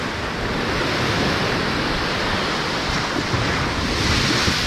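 Sea waves and strong wind on the North Sea, a continuous loud roar of surf and wind buffeting the microphone, with no voices.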